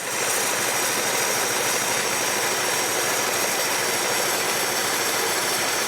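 The engine of a 1964 Plymouth Barracuda runs steadily at close range, a loud, unbroken rumbling drone with no talk over it.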